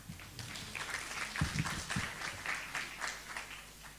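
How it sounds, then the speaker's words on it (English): An audience at a Johannesburg youth stakeholder session applauds a speaker, a soft, steady patter of many hands heard from a distance, with a few louder low thumps partway through. "Can we please have a round of applause for her?"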